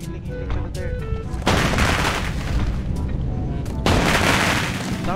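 Explosions and gunfire crack through a Rules of Survival battle royale match, with two loud broadband blasts over a steady din of shooting and background game noise.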